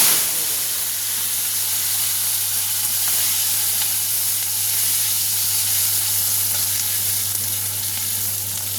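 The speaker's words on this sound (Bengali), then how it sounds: "এটাকে সুন্দর করে লাল লাল করে বেগুনটাকে ভেজে নিতে হবে" Brinjal pieces with green chilies frying in hot oil tempered with nigella seeds, a steady close sizzle and hiss running evenly throughout with a low constant hum beneath and no talk.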